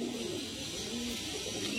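Andhra pigeons offered for sale give soft, throaty coos, a few drawn-out calls rising over a steady hiss, fairly quiet and close, without speech.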